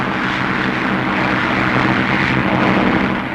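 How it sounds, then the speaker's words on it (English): A 1940 RAF fighter aircraft's engine at full throttle during takeoff, a loud, steady, broadband roar with a low droning tone and no break. "Now the takeoff. Throttle right forward. Stick central. Ease her off the ground."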